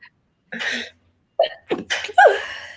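A sneeze bursts out close by, followed by a few more breathy bursts and sniffles, loud in an otherwise quiet space.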